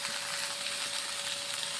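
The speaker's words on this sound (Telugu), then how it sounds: "దొండకాయలు బాగా ఫ్రై అవుతున్నాయి" Ivy gourd (dondakaya) pieces frying in oil in a pan give a steady, even sizzle with a thin constant hiss, close and unbroken, and no one speaks.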